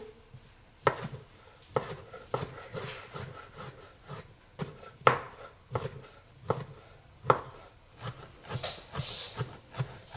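A knife chops preserved lemon into cubes on a board, making a run of close, crisp cuts and taps in an uneven rhythm, with soft rubbing sounds between strokes and no talking.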